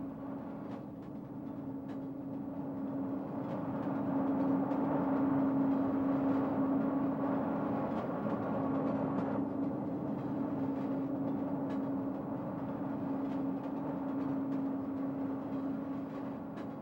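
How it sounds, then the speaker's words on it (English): A southbound freight train led by two E44 electric locomotives, number 4426 in the lead, rumbling past at a distance with a steady droning hum that swells and fades slightly, heard alone without talking. "Two E44s with number 4426 in the lead bring a southbound train off the Port Road from the Enola-Harrisburg area and turn north onto the corridor"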